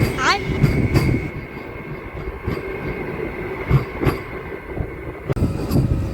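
A MEMU passenger train rumbles along the rails near Attili station between Rajahmundry and Bhimavaram, with rhythmic wheel clacks and a brief squeal, a steady loud roll throughout.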